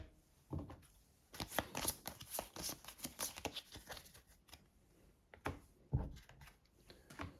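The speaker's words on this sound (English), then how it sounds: "I'm just going to shuffle these so you know I've not stacked the decks" A deck of Assassin's Creed Brotherhood of Venice event cards is riffled and shuffled in several bursts of crisp, rapid flutter and slapping card noise, close and fairly quiet, with short pauses between shuffles.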